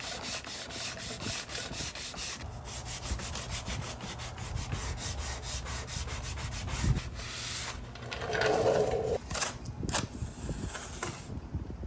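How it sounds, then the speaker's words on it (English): An orbital sander scuff-sands a dresser with 120 grit, giving a steady close rubbing whir that runs throughout, with a few brief louder scrapes partway. "I scuff sanded using 120 grit all the way around with my orbital sander and a sanding sponge"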